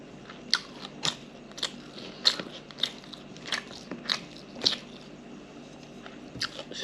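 Mutton biryani being chewed up close, with crisp biting crunches and moist squishy chewing in an uneven rhythm, quiet and alone.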